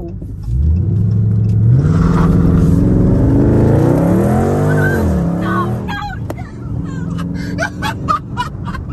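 Dodge Charger Scat Pack engine revs hard and loud while the car slides sideways, rising and falling engine pitch joined by squealing tires, then fading into chatter and rustling as people talk afterward.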